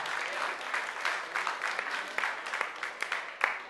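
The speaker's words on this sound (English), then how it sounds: "So give them a big round of applause." A crowd applauds at a breaking battle event, steady clapping throughout with a few sharper claps and cheers poking out, fairly close and continuous.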